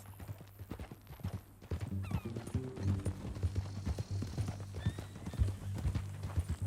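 Steady clip-clop of horse hooves with a loud whinny partway through in Red Dead Redemption 2, set against a low droning music bed and some rattling mechanical noise.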